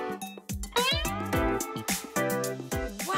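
A cat meows several times in quick succession, loud and close, the calls overlapping with bright musical tones.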